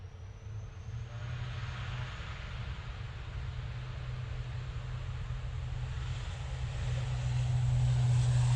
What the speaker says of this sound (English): And here are those props. ATR 72 going off to see lovely Laura in the Isle of Man.